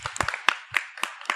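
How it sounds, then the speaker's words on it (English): Audience applause at a devotional class on Srimad Bhagavatam, a short burst of scattered, uneven claps with a few louder hits, sparse and close, no voices over it. "Give her an applause."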